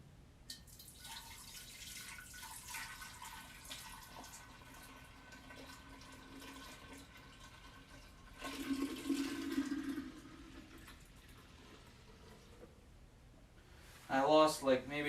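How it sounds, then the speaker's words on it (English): Homebrew liquid poured during a first brewing session, a soft splashing pour that swells briefly mid-clip amid quiet room noise, with a louder burst near the end. "So now I'm just gonna pour this on in."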